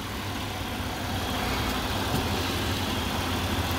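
A 2006 Buick Lucerne CXL sits idling with its engine bay open, giving a steady, even low rumble and hum that holds without change throughout.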